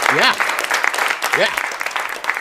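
A round of applause rises amid a talk-show crowd, with rapid clapping under brief whooping voices and people talking, fairly close and lively throughout the short burst.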